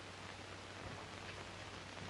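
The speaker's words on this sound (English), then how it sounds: "Rain, rain, rain. Whenever is it going to stop?" Steady rain falls in a broad, even hiss, with a low constant hum beneath it and no voices.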